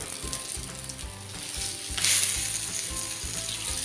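Surmai fish slices frying in hot oil in a pan, now on low flame, a steady close sizzle with light crackling and a brief louder hiss midway, no voices.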